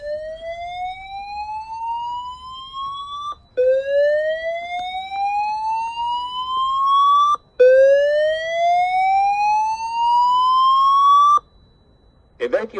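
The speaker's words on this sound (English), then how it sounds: "you can see that's gone straight into evacuation" A fire alarm evacuation siren sounds during a zone 8 system test, with three loud rising sweeps, each a few seconds long, separated by short breaks.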